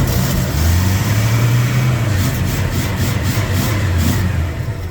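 A 1974 Ford 1-ton truck's engine runs loud and close, rising into a couple of deep revs, then settling into a rough, steady idle.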